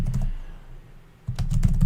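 Keys clatter on a gaming computer keyboard in quick bursts, with a pause in the middle, over a low steady hum; no one speaks.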